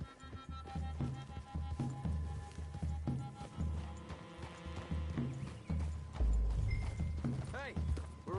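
Horses trot with a steady clip-clop through woodland in a Western-style console video game, hooves loud and close under continuous game music, with a voice speaking over the hoofbeats.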